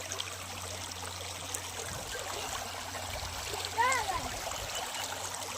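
River water streams continuously nearby, a constant splashing flow, interrupted briefly near the end by a short tonal voice-like call.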